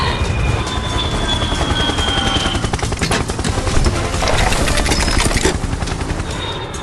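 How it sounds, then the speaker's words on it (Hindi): A red helicopter drones steadily overhead, its continuous rotor chop loud and dense with a rapid thudding pulse throughout, no voices. "हवा में लाल हेलीकॉप्टर गूंज"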